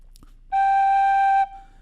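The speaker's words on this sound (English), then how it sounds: "on the whistle, a good way to do that is often just to tap the finger below the note" A tin whistle plays a single clear, steady G for about a second, with a finger tap below the note, after a faint click.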